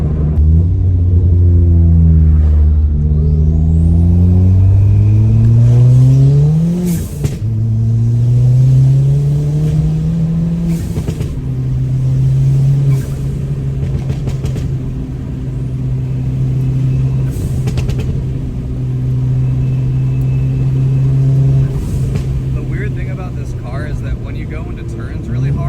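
A light front-wheel drive racecar accelerates hard, its engine note climbing steeply through the gears, then holding a steady, loud drone from inside the cabin.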